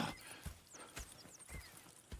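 Horses in the Western video game Red Dead Redemption II, with hoof clip-clops and a whinny or snort in a short stretch of game ambience, no talk.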